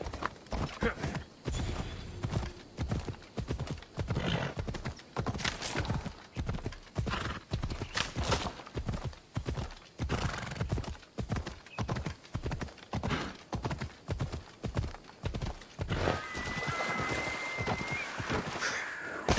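Horse hooves clip-clop in a steady galloping rhythm while riding through a landscape in the video game Assassin's Creed Odyssey, close and loud, with an occasional whinny and a crow cawing.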